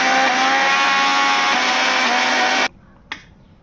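A kitchen mixer grinder runs coarsely grinding ridge gourd chutney, a loud, steady motor whine that cuts off abruptly, followed by a single sharp click.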